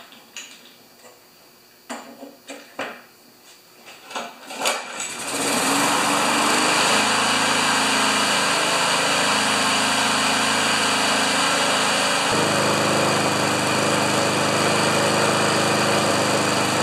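A Murray lawn mower with a Briggs & Stratton Classic engine, tipped up in the air, is cranked with a few ticking pulls, then catches and runs loud and steady at a high idle, its pitch dropping slightly near the end.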